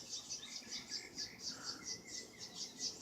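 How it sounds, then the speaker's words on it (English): Wild birds chirping after being fed on a June morning, with repeated high, bright calls in a steady rhythm against faint background hiss; moderately distant and soft. "I just fed the birds. They're coming for their food."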